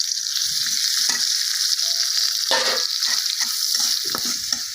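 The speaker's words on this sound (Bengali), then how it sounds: "তেলটা গরম হয়ে গেলে এখন কাঁচামরিচ দিয়ে দিলাম" Green chilies hit hot oil for a taro stolon curry, giving a steady bright sizzle with occasional stirring scrapes, close and continuous with no talking.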